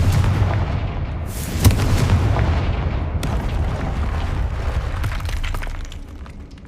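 Blasting spell explosions in the video game Hogwarts Legacy: a few heavy booming bursts that roll out into a loud, sustained rumble with no voices over it.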